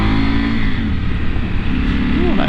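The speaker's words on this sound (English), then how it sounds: "that exhaust sounded a little bit rorty there when I was able to rev it out" KTM 790 R Adventure motorcycle with an Akrapovic exhaust revving out in low gear, a loud, rorty engine note that climbs and rises again near the end, close to the microphone.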